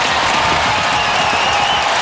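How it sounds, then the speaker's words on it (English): Hockey arena crowd rising and cheering in the final seconds of a Montreal Canadiens at Detroit Red Wings original six game, a loud, continuous roar of massed voices and applause throughout. "Crowd coming to their feet."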